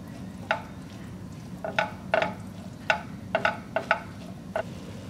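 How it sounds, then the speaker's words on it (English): Peppers and onion being stirred into ground beef in a pan over low heat, a steady soft sizzle broken by about a dozen sharp spoon scrapes and clanks at an irregular rhythm. "Now I'll add in my peppers and onion and mix it"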